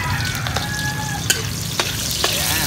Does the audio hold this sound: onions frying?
yes